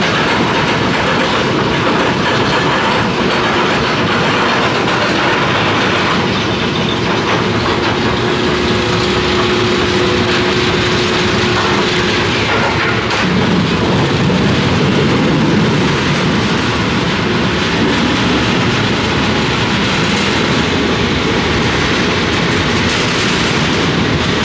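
Togo Ultra Twister roller coaster at Nagashima Spa Land: a loud, steady roar of train wheels clattering along the track, with rattling and rumbling throughout and a shift in tone partway through the ride.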